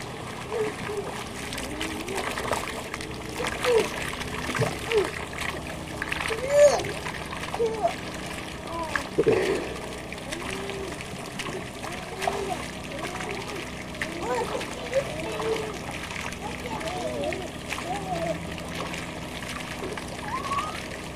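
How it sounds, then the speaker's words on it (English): Water sprays and splashes on a young child taking a shower at home, soft intermittent sloshing and trickling heard faintly beneath adults and kids chatting. "Says he's getting a little shower."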